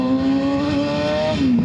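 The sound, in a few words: Kawasaki ZX6R motorcycle accelerating hard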